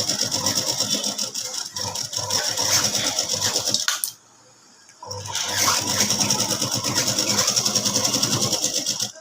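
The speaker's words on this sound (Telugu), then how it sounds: "అక్కడికి స్టాప్ చేసి మళ్ళీ రిబిట్ స్టిచ్ కుడతాం" A sewing machine sews chudidhar fabric with a steady rapid mechanical whir, stopping for about a second to turn and then resuming to stitch back over the seam for several more seconds.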